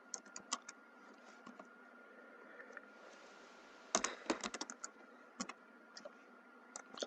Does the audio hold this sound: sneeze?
no